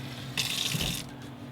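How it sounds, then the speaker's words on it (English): Hot tap water runs from a faucet into a pan, a brief close gushing burst lasting under a second before cutting off, with no talking. "Put some hot water in it and wait for the hot water to warm up"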